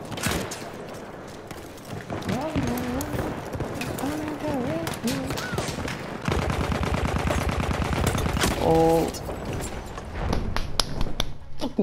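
Rapid automatic gunfire in the World War I shooter Battlefield 1, a steady rattling burst that starts partway through and continues near and loud, with someone talking over the first half.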